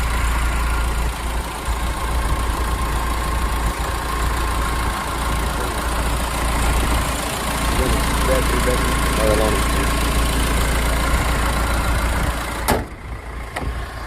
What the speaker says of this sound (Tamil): இன்ஜின் நாய்ஸை கேளுங்க எப்படி இருக்குன்னு